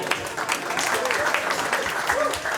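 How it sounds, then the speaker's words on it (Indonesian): An evening audience at an Indonesian religious talk show gives a lively round of clapping, dense and continuous throughout with a crowd murmur mixed in. "Sekali lagi tepuk tangan paling meriah malam hari ini yuk."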